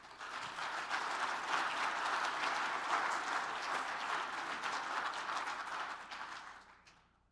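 Audience applause welcoming a panel host at a men's fellowship breakfast, a dense steady patter of many hands clapping for about six seconds before tapering off.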